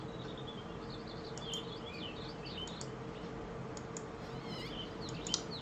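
Small birds chirp in brief high twitters over a steady ambient hum in the realMyst game world, fairly faint and without voices.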